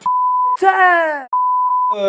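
Censorship bleeps blanking out spoken words in a French TV interview: a steady electronic tone cuts in for about half a second, a voice follows, then a longer bleep plays before the speech resumes.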